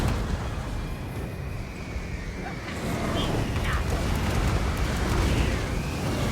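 Missiles pounding packs of skink units during a Total War siege by Chaos Dwarfs against Kroc-Gar, a dense, continuous rumble of distant explosions and blasts that swells slightly midway, with game clutter underneath and no clear talk.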